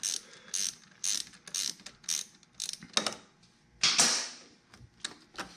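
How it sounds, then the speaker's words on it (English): A ratchet wrench loosens the battery terminal bolt on a Harley budget build, giving bursts of close, sharp clicking in uneven strokes, with short pauses between each run of clicks. "I'm going to use my wrench here. It's a ratchet wrench."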